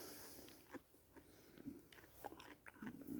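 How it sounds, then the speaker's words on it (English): Raw dwarf snow peas crunched and chewed outdoors in a garden, a series of soft, close bites and crunches at an irregular pace, quiet against faint background noise. "Nice and crunchy."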